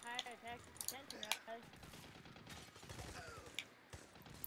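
A medium machine gun fires in the video game Army of Two: The 40th Day, letting off rattling bursts and sharp individual shots with mechanical clatter, partly under voices talking.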